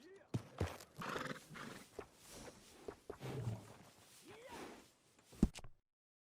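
A horse in the video game Red Dead Redemption 2 gives a loud whinny while hooves clip-clop nearby, with game dialogue spoken over and between the sounds.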